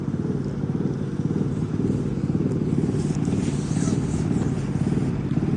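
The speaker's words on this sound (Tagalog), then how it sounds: "Grabe naman ang tunog ng motor niya." A loud motorcycle engine drones steadily and close by on a night street, holding a rough, continuous rumble with no breaks and no talk over it.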